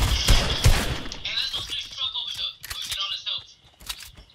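Bursts of gunfire in the battle royale game Fortnite, sharp shots and a few crackling volleys scattered throughout, mixed with players talking.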